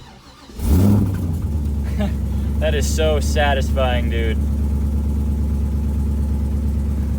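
A car raised completely on a jack, sitting sideways, fires up with a sharp start and settles into a steady low engine drone; someone talks briefly over the running engine partway through.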